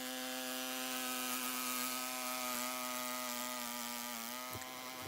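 A power saw blade cuts steadily through a log, giving a sustained droning whine with a strong tonal hum and slight shifts in pitch as it bites into the wood, close and unbroken.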